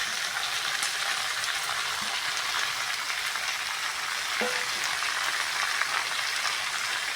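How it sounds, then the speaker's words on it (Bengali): Pre-fried prawns going into prawn fried rice in a hot pan, giving a steady close sizzle and crackle that runs evenly throughout with no voices. "এবার ভেজে রাখা চিংড়ি মাছটাও দিয়ে দেবো।"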